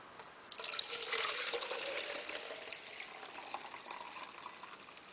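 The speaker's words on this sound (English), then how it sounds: "And then just pour it back and forth." Goat's milk being poured back and forth between containers for homemade yogurt, a steady close liquid trickle and splash that runs continuously for several seconds with no voices.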